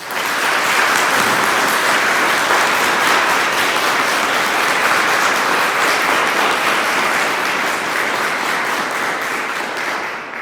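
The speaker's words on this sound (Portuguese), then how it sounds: "uma salva de palmas." A church congregation at a Catholic family Mass claps together in a long, steady round of dense applause that holds evenly before easing off at the end.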